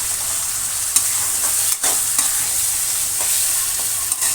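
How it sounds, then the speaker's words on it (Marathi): Ground spice paste frying in oil for soybean pulao, a loud, steady close-up sizzle with occasional spoon scrapes and stirring taps against the pan. "चांगलं तेलामध्ये आपल्याला ह्याला भाजून घ्यायचं आहे"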